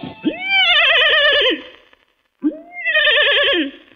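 A voice imitates a horse neighing, giving two loud, close whinnies with quavering, wavering pitch, separated by a short silence.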